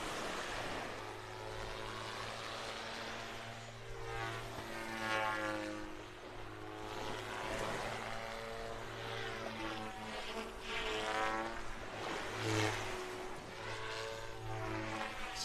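A model airplane flies over a beach in North Naples, Florida, its high buzzing propeller whine rising and falling in pitch as it circles and passes, steady and moderately near throughout.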